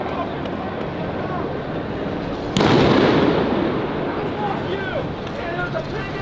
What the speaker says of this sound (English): Oh, they're shooting from above